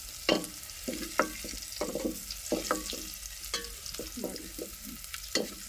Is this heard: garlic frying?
yes